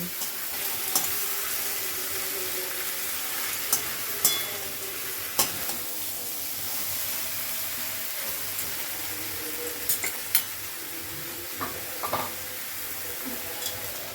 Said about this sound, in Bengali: এবারে সব কিছু ভালো করে মিশিয়ে নিচ্ছি।